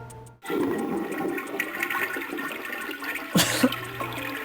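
A toilet flush from the video game Snatcher, a loud rushing gush of water that runs steadily for about four seconds and surges again near the end, with no voices.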